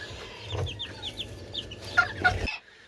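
Chickens cluck softly with high, thin cheeps from chicks scattered throughout, close by, over a low background rumble.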